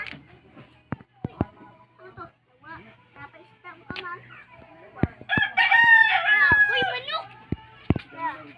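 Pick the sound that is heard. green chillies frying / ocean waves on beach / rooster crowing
rooster crowing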